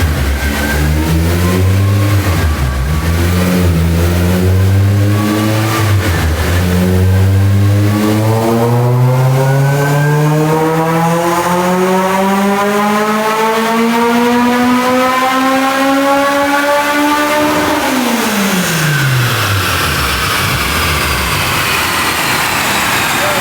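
A naturally aspirated Honda Civic Si with a K20A Type-R engine screams on a dyno, its loud, steady pitch climbing for about seventeen seconds to high revs before an abrupt lift-off and falling wind-down; no voices.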